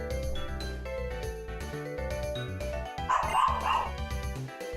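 Dog barking in Pokémon Black: a short synthesized yapping bark cry sounds over steady game music, standing out briefly near the middle.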